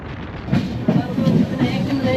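A passenger train on a long-distance run from Kanyakumari to Assam gives a low rumble and rattle, heard from inside the carriage, with voices talking over it.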